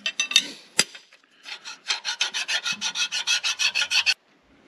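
A rat-tail file works into a cracked engine block on a 1939 Caterpillar D4 being repaired by metal stitch pinning. A few irregular rasps give way to a run of about a dozen evenly paced, close, loud filing strokes that stop abruptly.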